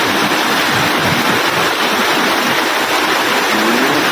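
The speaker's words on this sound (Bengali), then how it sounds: "প্রচুর প্রচুর বৃষ্টি হচ্ছে ঢাকায়" Heavy rain pours onto a flat rooftop in Dhaka where water has pooled, a loud, dense, unbroken hiss of falling water with no voices.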